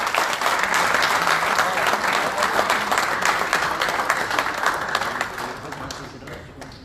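Loud, sustained applause from a dinner crowd welcoming the head coach of the Karachi Ghazis at a team dinner, with dense clapping that fills the room and slowly fades toward the end.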